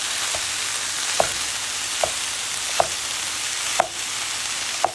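Egg and chicken sizzle steadily in a hot pan while a spatula breaks them apart, sharp scraping taps landing at a regular pace over a continuous frying hiss, close and alone.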